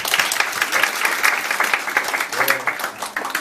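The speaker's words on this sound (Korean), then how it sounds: "근데 우리 박수 한번 시키자. 박수." Seminar audience of parents breaking into applause, steady dense clapping throughout, fairly loud and close, with voices murmuring under it.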